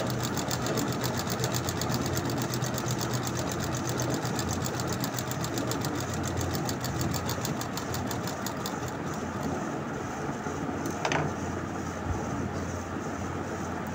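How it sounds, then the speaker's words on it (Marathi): A sewing machine stitches fabric in a fast, steady mechanical chatter of rapid needle strokes, running continuously and close, with a brief metallic clack near the end and no talking. "स्टिचिंग करून घ्यायची, व्यवस्थित कपडा पकडायचा, स्टिचिंग करायची।"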